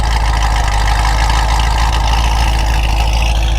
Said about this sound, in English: That idle, I mean, I could just listen to that forever.